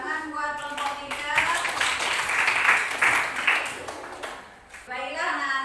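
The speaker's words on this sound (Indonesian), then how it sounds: "tepuk tangan buat kelompok 3" Applause for a student group in a classroom, a burst of clapping from the class that runs under a teacher's voice, with talk before and after it.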